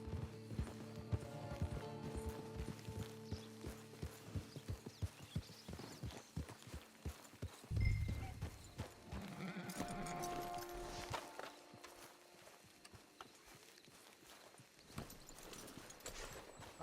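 Horse hooves in the video game Red Dead Online clip-clop at a walking pace, moving over ground, with a brief louder thump midway and quieter ambience toward the end.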